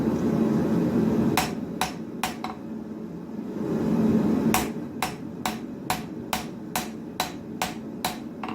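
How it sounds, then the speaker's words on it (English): A flatter is struck on a forged steel full-tang knife blade, giving sharp metallic clangs: three quick strikes, a pause, then a steady run of about nine evenly spaced blows, close and clear over a low shop rumble. "moved on to using the flatter to really get a good finish on the blade"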